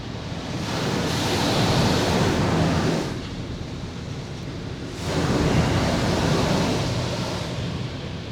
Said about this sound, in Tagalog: I-sprayan na ng tubig.